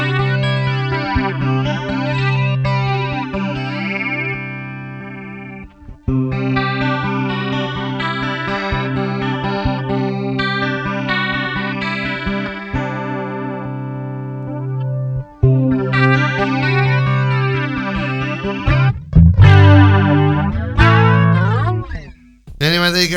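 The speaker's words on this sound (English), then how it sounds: "That's a flanger." An old made-in-Japan Boss BF-2 flanger pedal sweeping over guitar chords, giving a sparkly whooshing comb-filter swirl across several strummed passages with short pauses between them.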